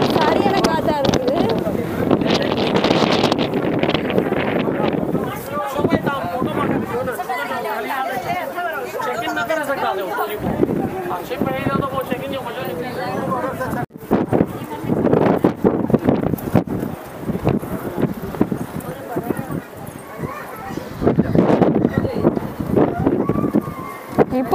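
Strong seaside wind at Kanyakumari buffets the microphone in steady, loud gusts throughout, with people chattering and talking over the roar.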